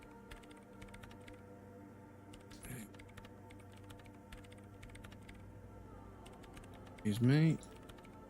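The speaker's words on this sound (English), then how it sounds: "her hands typing hundreds of commands into the machine" Rapid, light computer-keyboard typing clicks, as in the Disco Elysium video game, run steadily and faintly over a low ambient hum, with a brief spoken voice near the end.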